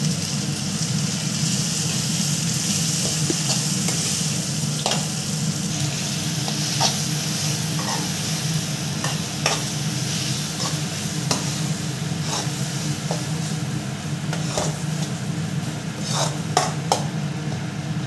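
Prawns frying in a pan for a home-style prawn fry, a loud continuous sizzle with scattered clicks and scrapes from stirring throughout, no talking.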